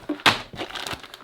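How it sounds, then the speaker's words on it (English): Large plastic bag full of racing model kit parts for a Kyosho Ultima 87 JJ replica, crinkled and crushed by hand in close, irregular bursts with one sharp loud rustle near the start. "So we've got a large bag of plastic parts, hence plastic bag."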